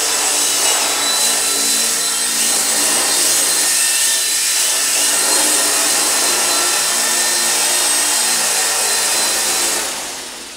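A small remote-control Honeybee four-channel helicopter flies close by, its motor and rotors giving a steady high-pitched whirring whine that holds for about ten seconds before tapering off, with no talking.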